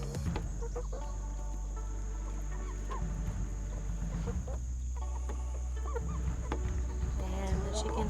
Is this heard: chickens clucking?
yes